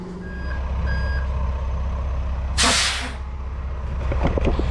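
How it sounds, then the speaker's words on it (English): A tow truck arriving to collect a broken-down campervan in a noisy car park gives repeated reversing beeps over a low diesel rumble, with one loud burst of air-brake hiss midway. "Tow truck's arrived."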